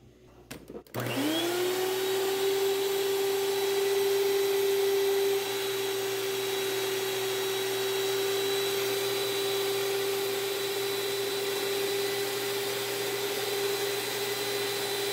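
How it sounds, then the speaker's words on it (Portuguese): An electric mixer beats cream with a box of condensed milk. After a brief knock it starts up into a loud, steady, high-pitched whir that holds for the rest of the clip, with a slight drop in level partway through. "Agora eu vou estar acrescentando uma caixinha de leite condensado e batendo mais um pouquinho até misturar bem."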